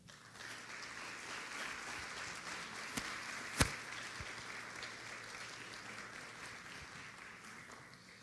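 Steady applause from an audience welcoming a panelist at an academic panel on educators and emerging technologies, a dense even wash of clapping that holds throughout with one or two sharper claps standing out.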